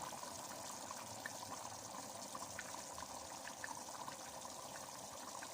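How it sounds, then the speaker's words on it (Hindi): Water is poured into fried chickpea masala in a pan, giving a steady, continuous trickling and sizzling wash that stays close and even throughout. "फिर थोड़ा सा इसमें पानी ऐड किया गया ताकि थोड़ी सी ग्रेवी बन जाए"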